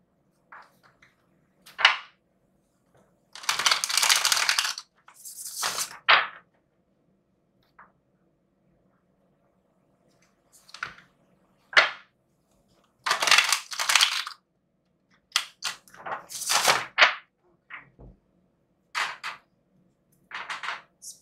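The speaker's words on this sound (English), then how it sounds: "One more shuffle." Tarot cards shuffled in several separate bursts of riffling and crisp card slaps, close and clear, with quiet gaps between them.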